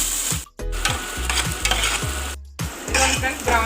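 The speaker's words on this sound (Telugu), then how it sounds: "ఆయిల్ మరిగిన తర్వాత ఉల్లిపాయలు వేసుకుందాం." Onions fry in hot oil, giving a loud continuous sizzle broken by rhythmic stirring scrapes and two short silent gaps, with no voices.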